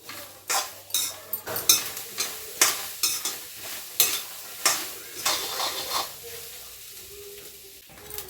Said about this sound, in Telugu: మక్కలు అయితే వేయిస్తున్నానండి